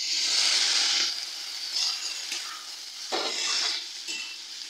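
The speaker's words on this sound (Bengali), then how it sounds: "ভিনিগারটা দিয়ে একটু নাড়াচাড়া করে নিয়েছি" Vegetables sizzle in a pan after vinegar goes in for veg chowmein, with bursts of hissing and a few metallic stirring scrapes against the pan.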